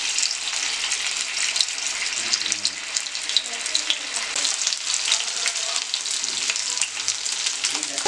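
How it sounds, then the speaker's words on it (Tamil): Marinated tuna fish fries on a tawa with a constant loud, bright sizzle and crackle that runs evenly for several seconds, with no talking over it. "இப்போ ஒரு தவால வந்து நம்ம ஃபிஷ்ஷை ஃப்ரை பண்ணிக்கலாம்"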